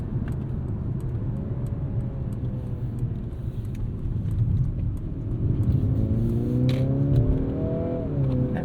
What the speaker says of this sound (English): the more piped in engine noise you get